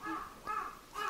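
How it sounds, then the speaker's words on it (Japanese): A crow caws three times in steady succession, a harsh call heard from a short distance on a quiet shrine island with no other sound around. "絶妙のタイミングでカラスの声が入ってましたね"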